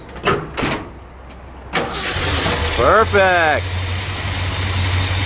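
A 1975 Ford Highboy pickup truck cold-starts after a few sharp knocks and a brief cranking whir, then catches and settles into a steady, close, rumbling idle while someone speaks briefly.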